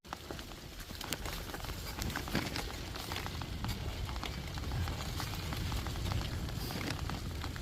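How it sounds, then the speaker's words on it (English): Light rain sprinkles during a bike ride on a trail near the Paw Paw Tunnel, a dense, steady patter of fine drops with faint crackling, heard close and continuous without talk. "And it's starting to rain,"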